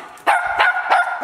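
A dog barks four times in quick succession, close and loud, each bark short and sharp with a yelping edge, during a game of hide and seek in the dark.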